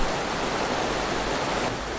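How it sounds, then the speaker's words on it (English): Fast-flowing water of a tiny forest micro-stream in the monsoon rushes steadily as a dense, even hiss, close and continuous with no voices. "The micro-stream is like a fast-flowing river for this tiny ant."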